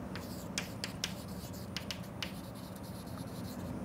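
Writing on a board during a lecture, a faint series of short scratchy strokes and taps in an uneven rhythm against a quiet room hum.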